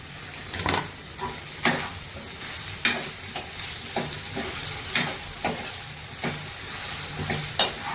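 Ginger, onion and potato fry in oil with a steady loud sizzle, broken by repeated clatters of a spoon stirring against the pan at irregular intervals.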